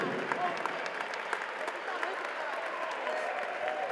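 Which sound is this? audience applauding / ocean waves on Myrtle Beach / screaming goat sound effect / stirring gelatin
audience applauding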